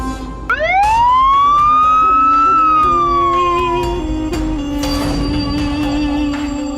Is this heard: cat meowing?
no